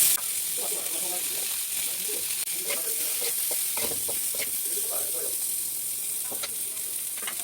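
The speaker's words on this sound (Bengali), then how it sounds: "পেঁয়াজগুলো দিয়ে দিচ্ছি, একটা কাঁচামরিচ কুচি দিয়ে দিচ্ছি।" Chopped onions and green chili sizzle steadily in a hot pan with oil while prawn soya balls are being prepared, a continuous close frying hiss broken by light stirring clatter, with no talk over it.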